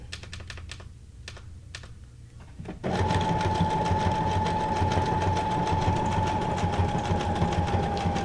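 A sewing machine starts up and runs steadily, its rapid stitching loud and continuous for several seconds after a brief quieter stretch of light clicking at the start.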